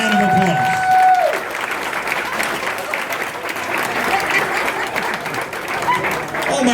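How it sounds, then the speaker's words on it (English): Audience applause for hypnotized volunteers at a stage hypnosis show, a sustained, dense wash of clapping filling the room, with a voice talking over it near the start. "Give them a tremendous round of applause."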